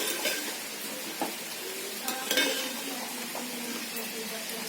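Mutton biryani being stirred in a pot, with the spoon scraping and clinking against metal at intervals over a steady low sizzle, all close by.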